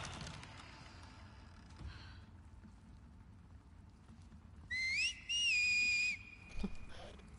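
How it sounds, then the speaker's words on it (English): Sharp rising whistles from enemies in the video game The Last of Us Part 2 come at a middle distance, a couple of tonal calls in quick succession over a quiet rustling outdoor ambience, with no talk. "Every time before this, I hear those whistles."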